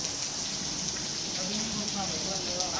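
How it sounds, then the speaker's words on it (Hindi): Heavy monsoon rain pouring down outside a flooded office in Karachi, a dense steady hiss of falling water with faint voices underneath. "आपको अंदाज़ा होगा कि बारिश कितनी तेज़ हो रही है"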